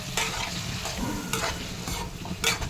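Paneer pieces frying in ghee in a pan, a steady close sizzle broken up by several sharp scraping stirs, with no voices.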